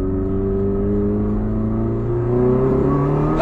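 A Subaru Impreza engine revs in a loud, close, steady drone with strong harmonic tones, swelling slightly toward the end.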